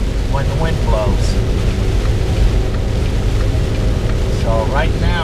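Steady roaring wind buffets a moving vehicle, a constant broadband rush with low rumble throughout, while brief voice fragments surface near the start and end.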